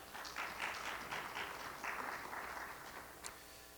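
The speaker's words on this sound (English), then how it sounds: "Let's give them one more round of applause." Audience applause at the opening of an Environmental Justice Summit, a steady wash of many hands clapping from a moderate distance, swelling and easing a little before thinning toward the end.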